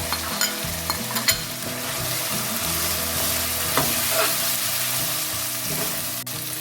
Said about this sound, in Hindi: प्याज को हम पकाएंगे लाल होने तक।